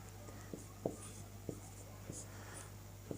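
Pen strokes on paper while a Sanskrit translation sentence is written out, a faint, quiet scratching broken by several soft taps spaced under a steady low hum.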